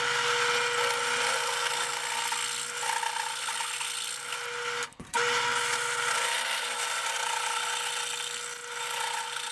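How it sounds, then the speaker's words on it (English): A power drill grinds steadily through scrap steel, drilling a half-inch hole, stopping for a moment midway before starting up again. "I think I'm just gonna drill it to 1/2 inch"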